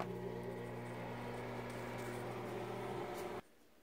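A microwave oven heating potato soup hums steadily with a constant low drone, then cuts off abruptly near the end, leaving quiet.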